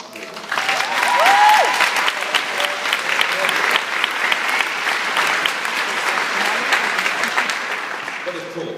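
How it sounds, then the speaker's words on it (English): A concert audience at a junior conservatoire music festival breaks into sustained, dense applause that swells and holds steady, with a voice audible over it at the start. "You deserve a round of applause."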